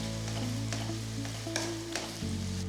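Onions with a pinch of salt fry in a pan until golden brown, giving a steady close sizzle with faint scraping stirs and a low hum underneath, no voices.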